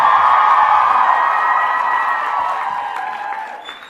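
Audience applause and cheering for a convention panel crowd, loud and dense at first and gradually fading over a few seconds, with scattered whoops.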